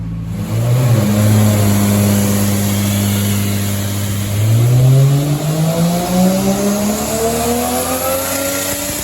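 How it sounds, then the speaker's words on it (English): 1JZ-swapped Nissan S14 engine on a dyno pull, revving loud and close with steadily rising pitch through the gears, a brief dip and climb again. "Just made 517 horsepower on the dyno with this on the last pull."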